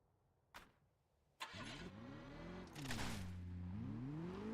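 Car engine in the video game Crackdown 2 starting up after a sharp click, then running steadily with revving that rises and falls in pitch, loud and close with no talk.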